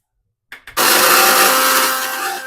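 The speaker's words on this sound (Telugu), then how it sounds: "మెంతులు అయితే మిక్సీ పట్టుకుందాము" Mixer grinder grinding fenugreek seeds into powder: a couple of short bursts from the motor, then a loud, sustained high-pitched whirring roar with the seeds rattling inside the jar.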